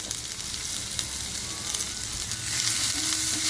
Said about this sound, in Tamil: நல்லா கலந்து வச்சுட்டு ஓரளவு வெங்காயம் வதங்கிடுச்சு.